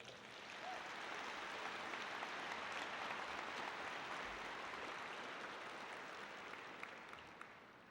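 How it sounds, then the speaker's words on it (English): Sustained crowd applause for college officials at a commencement ceremony, a dense, even wash of clapping that holds steady for several seconds before slowly fading, heard fairly distant. "Please recognize these folks with a round of applause."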